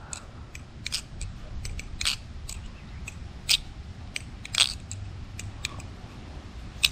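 Sharp metallic clacks and clicks of a Squid Industries Mako butterfly knife being flipped, in an irregular rhythm, a few louder snaps standing out over a low background hum, close by.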